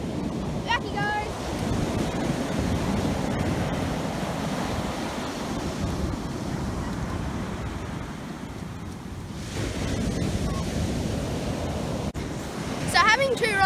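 Winter surf rolling onto Golden Beach during salmon fishing, a steady broadband wash of waves under strong wind buffeting the microphone, continuous and fairly loud throughout with no talk.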